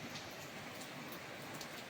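Heavy rain falls outside as a steady, even hiss of dense drops, faint and continuous throughout with no voices.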